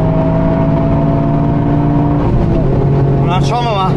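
A BMW's engine revs hard as it accelerates along a long straight on a track, a loud steady drone with harmonic tones rising near the end, while someone talks over it.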